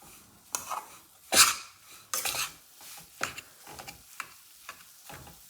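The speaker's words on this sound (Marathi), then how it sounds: "आता आपल्याला हे साधारण 10 मिनिटं मीडियम गॅसवर चांगलं भाजून घ्यायचंय" A rava and besan mixture roasting in ghee in a pan over a medium gas flame, stirred with a metal spoon; intermittent scraping and clinking strokes against the pan over a faint background sizzle.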